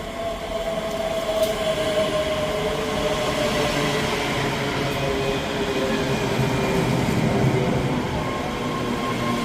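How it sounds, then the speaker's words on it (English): A ScotRail class 385 electric train on the Glasgow Queen Street to Edinburgh Waverley service pulls into Edinburgh Haymarket with a steady, loud rolling rumble and a faint whine, close by and continuous. "Arriving in now is the 12:31 Scotrail service from Glasgow Queen Street to Edinburgh Waverley."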